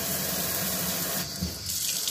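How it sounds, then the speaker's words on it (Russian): Water from a new kitchen faucet streams steadily and loudly into the sink, a continuous hiss that shifts slightly in tone partway through as the flow changes. "новый кран"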